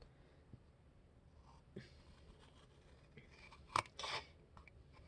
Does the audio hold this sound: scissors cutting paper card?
yes